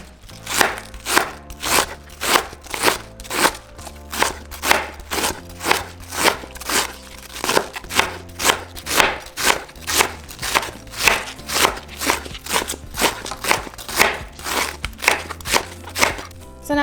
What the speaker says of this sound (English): So next we're going to chop our cabbage. We're just going to cut it very fine.